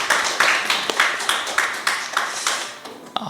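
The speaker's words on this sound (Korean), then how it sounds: "환영의 박수 다 같이 드렸습니다" Clapping from a congregation in welcome during a Wednesday evening church service, a sparse run of distinct claps in an uneven rhythm that thins out toward the end, heard close and fairly quiet.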